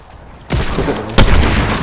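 Pump shotgun blasts in Fortnite, two loud close booms roughly 0.7 seconds apart after a quiet start, each followed by a ringing tail.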